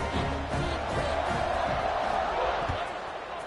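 Stadium crowd at a college football game between North Texas and Southern Miss, roaring steadily after a touchdown drive as the kickoff unit lines up, a dense, sustained wall of cheering with broadcast commentary mixed in.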